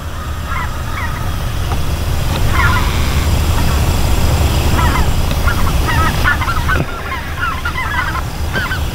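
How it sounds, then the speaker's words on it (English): Flock of speckled belly geese honking outdoors, a steady chorus of overlapping calls from a long line of birds, moderately distant over constant wind-like background noise. "This is just a huge line of speckled belly geese."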